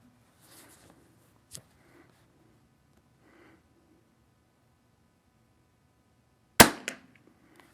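Single sharp report from a Christensen Arms Ranger 22 rimfire rifle at a target range, one loud close crack with a quick decay after several seconds of faint breathing and rustling.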